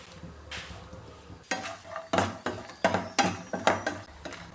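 Cashews and raisins frying in Milma ghee in a pan, a soft sizzle under a rhythmic series of about six scraping stirs that grow louder and more regular through the second half.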